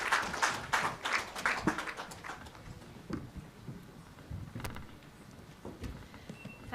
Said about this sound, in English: Can we have another round of applause, please?